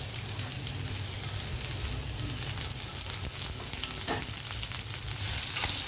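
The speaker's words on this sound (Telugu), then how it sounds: "ఈ ఉల్లిపాయలు క్యారెట్ కొంచెం వేగనిద్దామండి" Onions and carrots sizzle and fry steadily in a pan, a constant crackling hiss with occasional stirring scrapes.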